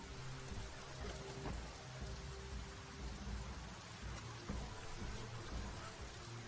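Rain falls in the video game Biomutant as a quiet, constant patter and hiss, with low rumbling underneath and a few slightly louder thumps at irregular moments.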